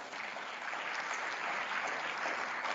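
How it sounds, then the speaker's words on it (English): Audience applause for a panel at an industry partnerships summit, a steady, dense clapping from a large crowd filling the whole stretch without pause. "please give a round of applause to all of our panelists."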